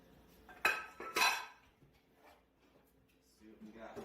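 Contents of a Cajun can cooker being dumped from the metal can into a metal pan, two close, bright metallic clanks followed by softer clinks and rattles, with a voice speaking faintly in the background.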